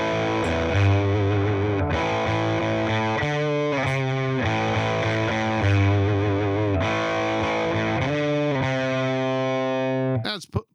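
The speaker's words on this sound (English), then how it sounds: "throw distortion on top of that" An electric guitar runs through stacked overdrive and distortion pedals, playing loud, saturated, sustained chords and riffs continuously for about ten seconds before cutting off abruptly.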